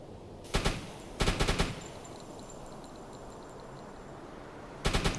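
Machine-gun bursts fire in a boat combat video game: a short volley, a longer rattling burst, then another volley near the end, loud and sharp over quiet ambient background with no speech.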